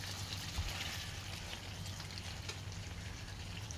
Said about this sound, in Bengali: মশলা দিয়ে মাংসটাকে আগে কষিয়ে নিয়ে তারপর জল দিয়ে দেবো